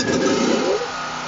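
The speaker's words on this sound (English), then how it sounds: "There we go, it's running good." A WEN 4750 portable generator's small engine running steadily after a carburetor and air box repair, a loud, close, continuous drone that dips slightly in pitch partway through.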